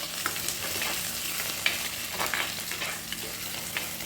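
Onion, ginger and garlic fry in a clay pot for fish curry, a steady close sizzle broken by occasional stirring scrapes, with no one talking.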